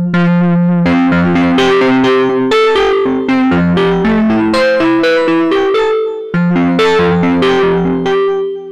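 A loud, gritty distorted synthesizer (GForce Oddity 3 software synth with a distortion effect) plays a continuous melodic line of sustained notes with only a brief pause partway through.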